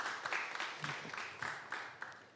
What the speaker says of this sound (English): So I want to give another round of applause to Marlin Elementary.